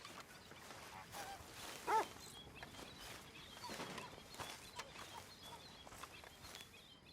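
A dog in the open-world western game Red Dead Redemption 2, giving one short bark-like yelp amid soft outdoor ambience with faint birds, no talking.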